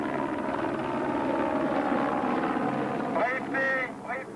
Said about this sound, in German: Der Hubschrauber von Thierry Sabine schwebt ein.